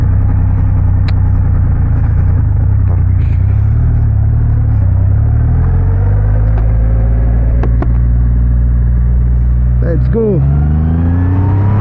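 A 2,500cc superbike engine rumbles loudly and pulls hard under acceleration, its drone rising in pitch near the end, with excited speech over it.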